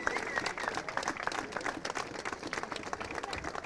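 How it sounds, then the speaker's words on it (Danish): Crowd applause at a bridal race event in Vejle, dense sustained clapping from many spectators with a few louder individual claps standing out, continuous throughout. "Kan I klappe højere?"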